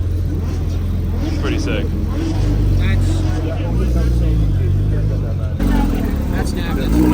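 Porsche 991.2 GT2 RS and 992 GT3 in Mexico blue pulling away from a dealership lot, low engine rumble and rising revs under steady crowd chatter and nearby talk.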